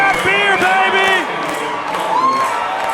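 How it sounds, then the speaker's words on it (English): A ballpark crowd in the second deck whoops and cheers loudly for a fan chugging a beer, with many overlapping shouts and rising excited voices filling the stands throughout. "Dustin Baber gets the crowd going!"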